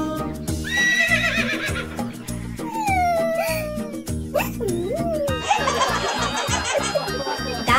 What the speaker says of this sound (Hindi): खेते छिलो एकटा घोड़ा